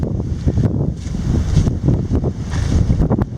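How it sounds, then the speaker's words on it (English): Strong gusting wind on a beach buffets the microphone in rough, uneven bursts, loud and close throughout. "It's windy."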